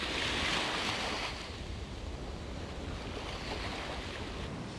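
Ocean surf rolls and breaks on a sandy coastal beach, a continuous broad wash of water with one stronger surge at the start, fairly close and steady with no voices.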